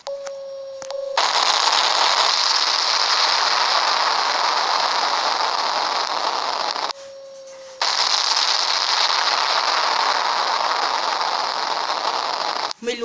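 Sustained, loud burst of rapid gunfire, roughly two long stretches of continuous shooting broken by a short pause, harsh and close with a steady tone beneath.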